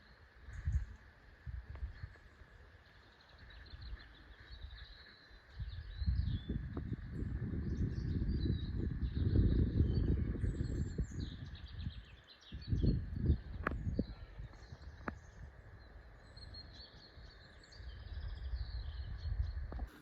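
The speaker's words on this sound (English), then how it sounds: "I do love hearing the birds" Faint birdsong chirps high above a rumbling outdoor background, with bursts of low noise like wind or rustling coming and going.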